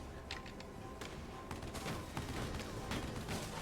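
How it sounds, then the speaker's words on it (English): Intercept gunfire from Valkyria Chronicles 4 crackles as a unit moves, with bursts of rapid shots and sharp reports layered over a busy, moderately loud battle backdrop. "he gets intercept fire as he moves"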